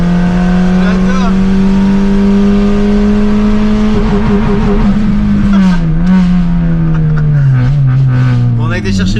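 A Peugeot 206 fitted with a V6 engine revs hard and climbs steadily up to its rev limiter, a loud continuous engine drone rising in pitch and then bouncing off the limiter near the end, with talk running underneath.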